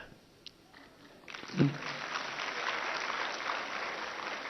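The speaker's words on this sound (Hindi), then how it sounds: "ताली तो उधर से बज रही है, इनकी नहीं बज रही अभी भी।" An audience at a cultural program at a Vedic girls' gurukulam in Haridwar breaks into steady applause, the clapping rising after a quiet start and continuing as a dense, moderately distant wash.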